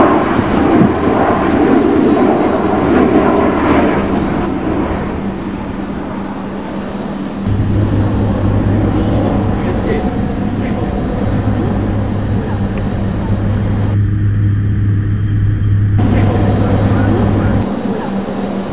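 Loud, steady engine and airframe roar inside a C-27J Spartan tactical airlifter flying an air show display, a continuous drone with a low hum that shifts partway through as the aircraft dives.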